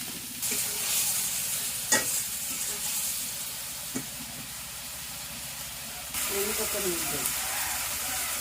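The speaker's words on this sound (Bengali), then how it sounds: "দিয়া সব মশলা দিয়ে কষায় নিতেছে" Turmeric, chili, coriander and cumin being sautéed in a pan in a Bangladeshi village kitchen: steady loud sizzling and frying with stirring scrapes, a couple of sharp clinks, and a burst of fresh sizzle near the end.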